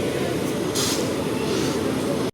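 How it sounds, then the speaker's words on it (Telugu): Padmavati Superfast Express 12763, a 22-coach Tirupati–Secunderabad train, rumbles past close by in a steady, loud roar that holds throughout before cutting off abruptly at the end. "ఇక్కడైతే అద్దరిపోయే ట్రైన్ వస్తుంది, పద్మావతి సూపర్ ఫాస్ట్ ఎక్స్ప్రెస్ 12763"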